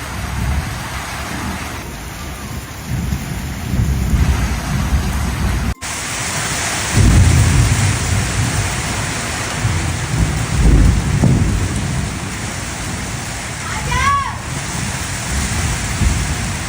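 Heavy rain and hail pound down outside where a car is parked, a dense, steady roar with thunder rumbling loudly after a sharp crack partway through, continuing with no talking.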